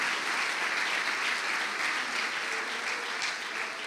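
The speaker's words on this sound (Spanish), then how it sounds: "Dele fuerte esa ofrenda de palmas a nuestro Dios que está en medio nuestro" A church congregation applauds, dense, steady clapping from many hands filling the room at an even level the whole time.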